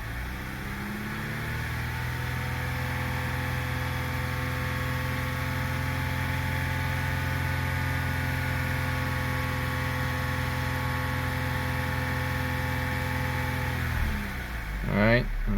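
A 2011 Audi A4 2.0T engine idles steadily with a smooth, even hum, then briefly revs up near the end before settling.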